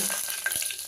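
Chili, coriander seed, cumin and pepper hit hot oil, throwing off a steady, close hiss of frying with a brief crackle or two midway; no voices.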